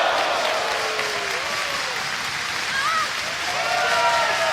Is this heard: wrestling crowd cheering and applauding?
yes